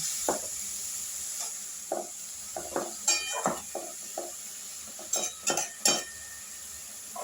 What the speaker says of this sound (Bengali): আমি একটু ঢাকা দিয়ে দিচ্ছি।